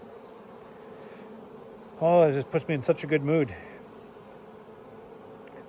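Honey bees bought in British Columbia drone around their hives in a steady, continuous buzz that fills the background, while a person speaks briefly over it.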